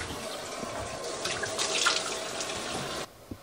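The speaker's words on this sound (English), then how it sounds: "The shower." Water running steadily from a bathroom shower in a safari lodge in Tanzania, a continuous close hiss that stops abruptly near the end, with no speech.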